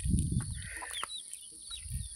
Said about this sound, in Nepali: हेर्नु न बब्बाल कुखुराहरू चल्लाहरू आमा पोथी